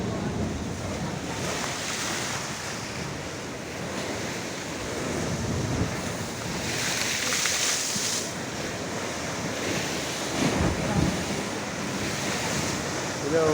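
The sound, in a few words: strong sea waves crashing at the seawall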